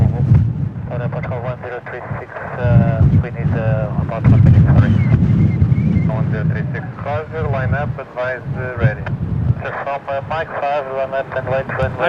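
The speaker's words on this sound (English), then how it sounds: "Another windy day in Portugal." Strong gusts of wind at Lisbon Airport roar and buffet steadily in the low end, with a voice talking over it throughout.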